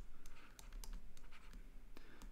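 Chalk or pen strokes on a board during a university maths lecture on invertible functions, a run of short scratchy taps and scrapes at moderate distance over a steady room hum, with no talking.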